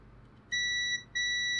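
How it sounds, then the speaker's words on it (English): Two sharp electronic beeps in quick succession, a steady high tone that cuts off briefly and resumes, loud and close over a quiet background. "we're on continuity, which is the mode that beeps"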